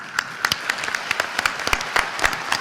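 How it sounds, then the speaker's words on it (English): Applause from a crowd at a university graduate commencement ceremony, many hands clapping in a steady, dense patter with sharper individual claps standing out, continuing throughout. "Let's applaud for them."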